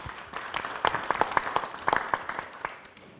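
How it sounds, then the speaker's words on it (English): A meeting of delegates at the inaugural Africa meeting of Global Geospatial Information Management gives short, sparse applause, a few seconds of scattered claps at moderate distance in a quiet room. "we can give the countries elected a short round of applause."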